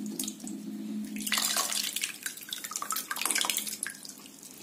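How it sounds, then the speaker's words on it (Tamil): Water is poured over soaked tamarind in a bowl and squeezed through the fingers while being strained by hand, producing close wet splashing and dripping in two uneven bursts, with no talk. "பிசைஞ்சிட்டு தண்ணி விட்டுக்கோங்க. தண்ணி விட்டுட்டு கையில வடிகட்டிக்கோங்க."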